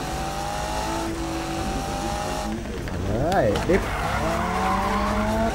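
Car in the Need for Speed racing game driving at speed with engine tone, then sweeping tire squeals as it skids and drifts, under someone talking throughout.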